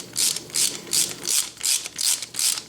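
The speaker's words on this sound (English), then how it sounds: "Then I can go ahead and put these 4 screws in." A ratchet driver tightens screws on a Traxxas Slash RC car differential, giving seven evenly spaced, close, crisp clicking bursts with no talk.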